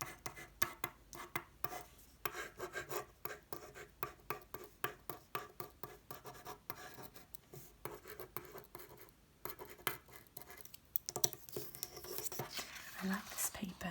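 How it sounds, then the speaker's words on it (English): A capped black pen traces over thick paper in close, quiet strokes, a rhythmic series of soft scratches and rubs with a few faint taps. "I'm going to do a bit of tracing with the pen also without it open."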